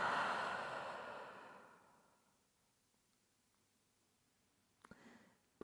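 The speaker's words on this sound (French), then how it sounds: "dernière grande expiration." A single long, deep exhalation during a relaxing yin yoga session, loud and breathy at first and fading to near silence over about two seconds, followed by a brief faint rustle.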